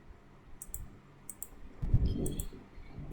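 Computer mouse clicks while working in aSc TimeTables scheduling software, coming in quick pairs of light clicks with a soft thump between them.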